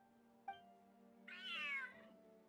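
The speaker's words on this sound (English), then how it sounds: "Northland Cat." A Northland Cat in the Genshin Impact video game gives one clear, drawn-out meow, preceded by a short click, over soft sustained background tones.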